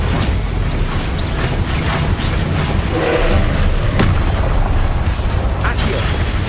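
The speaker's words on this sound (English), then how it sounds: "Stupefy." Stupefy spell impacts in Hogwarts Legacy land amid a dense, loud stream of booming, creaking and mechanical game effects, with bursts and thuds piling up continuously.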